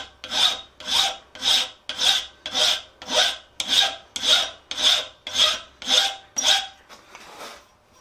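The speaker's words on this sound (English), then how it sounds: "File away." Steel planishing foot tool worked with a hand file, about a dozen even rasping strokes in a steady rhythm, close and clear, the last stroke softer as the filing trails off.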